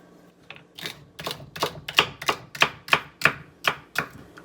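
Vegetables, sweet potatoes among them, being chopped into small chunks with a knife on a cutting board, about a dozen crisp, evenly spaced knocks that grow firmer and louder as the rhythm settles, close and alone.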